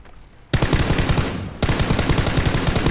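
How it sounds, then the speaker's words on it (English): Rapid automatic gunfire in PlayerUnknown's Battlegrounds, a quiet start followed by loud, close, evenly spaced shots that continue to the end. "I shot him through the bottom of the fence"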